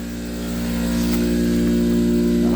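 An old engine, stripped except for the steering column and fitted with a front PTO, runs steadily at a low, even hum, close and continuous, with a slight rise in loudness as it carries on; no one speaks over it.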